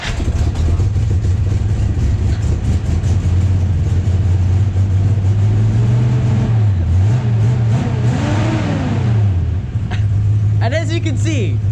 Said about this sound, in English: that engine is clearly rumbling